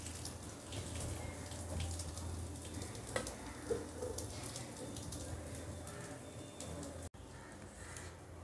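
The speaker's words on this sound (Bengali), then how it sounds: "মাছটা ভেজে নেব।" Fish, a carp-type pona, frying in a pan, with a steady close sizzle and crackle that runs unbroken throughout, plus a few faint clicks over it.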